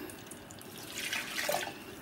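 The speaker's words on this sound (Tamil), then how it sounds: "கொஞ்சம் தண்ணி விட்டுக்குவோம்." Water poured into a pot of fish curry in a home kitchen, a brief faint splash and trickle swelling and fading over about two seconds, with no talk.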